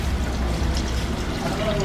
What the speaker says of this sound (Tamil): நெக்ஸ்ட் தண்ணி வந்து 1 லிட்டர் ஊற்றணுங்க.